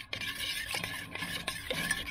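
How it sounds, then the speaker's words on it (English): A spoon stirs a seasoned sauce of salt and cracked black pepper in a pot, a few soft scraping strokes in a steady rhythm, close and quiet with no talk. "And now we're gonna give that a stir."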